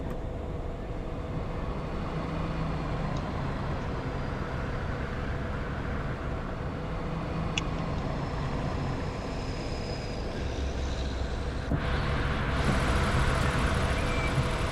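Steady low traffic rumble from inside an articulated bendy bus crawling through city congestion in Bus Sim 18, a constant engine drone with a brief louder swell of passing traffic near the end.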